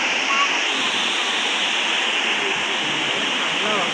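River water rushing steadily beside the bridge near Keshavraj temple in Dapoli, a broad continuous roar that stays loud and unbroken throughout, with no pauses and no voices over it.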